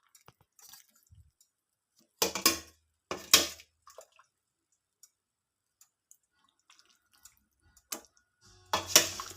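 Plates and utensils clink while boiled beef stew (nilagang baka) is plated in a home kitchen, with a few sharp clattering bursts separated by long quiet gaps and small faint ticks in between.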